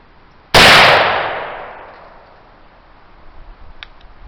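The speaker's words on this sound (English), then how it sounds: "our third and final shot with our pine charcoal black powder" A single loud gunshot fired with homemade black powder made from pine charcoal, a sharp close blast that decays over about a second and a half into quiet, followed by faint small ticks.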